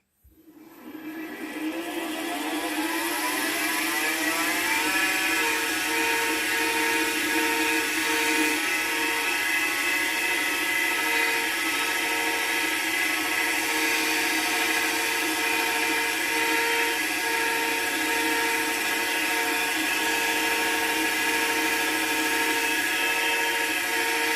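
A sharp 3/8 spindle gouge cuts a log on a wood lathe spinning near 1,000 rpm, making a steady whining hum with a continuous scraping hiss that starts after a short lead-in and holds evenly at close range.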